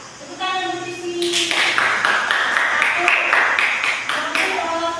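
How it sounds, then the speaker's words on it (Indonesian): Classroom group clapping during a teaching session, a burst of brisk hand claps sustained for several seconds, close and fairly loud, with a voice speaking at the start and over the end. "Tepuk tangan untuk di sini."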